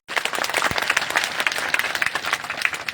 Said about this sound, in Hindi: इसके लिए ताली एक बार।